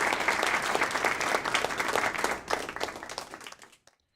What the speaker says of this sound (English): A little golf clap.